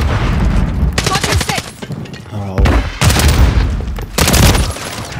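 Loud bursts of automatic gunfire from a gun in Call of Duty Modern Warfare 3 multiplayer, three sustained volleys broken by short pauses, with a voice talking between and over them.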